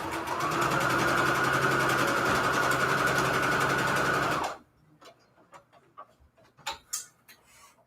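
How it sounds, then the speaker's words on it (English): A sewing machine runs at a fast, steady clip for about four and a half seconds, stitching fabric scraps together, then stops, leaving quiet clicks and handling of the cloth. "Let's sew these together."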